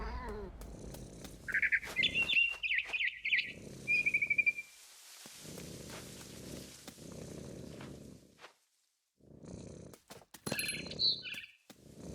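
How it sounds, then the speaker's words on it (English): A barn swallow in the game What Remains of Edith Finch gives a quick run of high chirps early on and one brief chirp near the end, heard over a soft, low ambient hum. "Then I heard chirping outside my window. It was a barn swallow going back to her nest."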